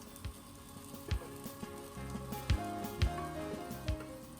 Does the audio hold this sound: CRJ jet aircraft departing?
no